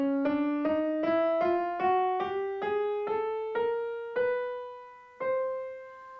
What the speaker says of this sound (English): if you play all of the black and white notes in between, you have 12 notes